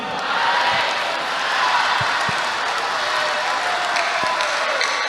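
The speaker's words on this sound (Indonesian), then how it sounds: "Tepuk tangan sekali lagi" Audience at a university event clapping steadily, a dense continuous wash of hands with a few sharper claps standing out.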